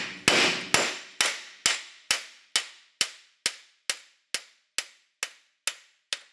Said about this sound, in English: I'm gonna have to keep smacking this motherfucker right here just to loosen up that shaft.